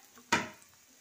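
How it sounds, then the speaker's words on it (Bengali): Ginger is stirred into a hot pan for a Bengali banana-flower pulao and gives one sudden short sizzle that fades within a fraction of a second. "আগে আদাটা দিয়ে ভালোভাবে নেড়ে নেব।"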